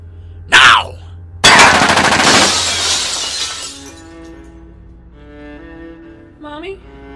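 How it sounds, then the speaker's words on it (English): Troops open fire in a motion comic: a sharp burst of shattering glass, then a loud rapid machine-gun volley that rings out and fades into a lingering musical score. "Troops, you may fire on my mark."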